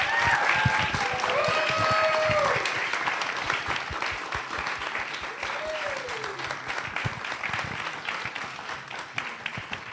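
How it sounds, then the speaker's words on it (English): Audience applause at an evening book event for Steven Grier Williams, a loud wash of many hands clapping that eases into lighter, scattered claps, with a few voices and whoops mixed in. "Can we get one more round of applause?"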